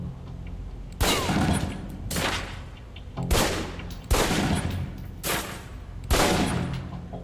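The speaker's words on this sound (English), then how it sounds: "Equip the pistol, then aim down range and take some shots at the target." Pistol fired at a target range in Alpha Protocol: six sharp shots spaced about a second apart, each with a short echoing tail, loud and alone.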